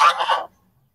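A domestic goose on a farm in Tripura gives one short, close honking call that breaks off quickly into silence.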